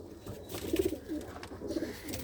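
Pigeons in a dim loft give a few soft, throaty coos close by, short bursts spaced over a quiet, faintly rustling background.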